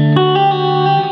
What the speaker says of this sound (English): This is more high gain distortion.